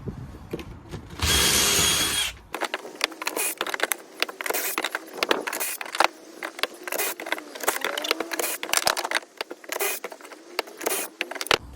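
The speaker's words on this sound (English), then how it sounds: "So we're going to quickly go through, cut all the pocket holes." A Kreg K4 pocket-hole jig drills pocket holes into wood for under-stair drawers. One loud, steady drilling burst lasts about a second and a half, followed by a long run of sharp clicks and clatter as the workpieces are handled.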